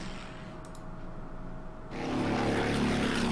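Bomber aircraft engines in the strategy game Order of Battle, a low propeller drone that starts quiet, then swells abruptly into a louder, steady engine roar partway through.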